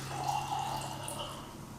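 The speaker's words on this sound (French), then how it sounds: "je vais commencer par égoutter au maximum, puis rincer pour la chance" Water runs and drips as pre-soaked sprouting seeds are drained and rinsed, a steady faint trickle with a low hum underneath, no talking.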